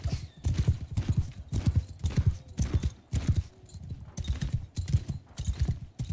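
Rhythmic hoofbeats of horses galloping in the medieval battle game Mount and Blade Bannerlord, a loud, steady, close clip-clop pattern running throughout with no voices.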